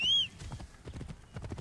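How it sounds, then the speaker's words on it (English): Horses in the game Assassin's Creed Origins clip-clop with a quick rhythmic trot after a brief high whistle-like tone, moderately close and fairly quiet. "I think they're actually getting on a horse. They just stole someone's horse."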